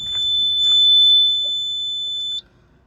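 Horn of a 2019 Ashok Leyland Dost Plus BS4 light truck: one steady, high, buzzy tone held for about two and a half seconds and then cut off, loud and close with no talk.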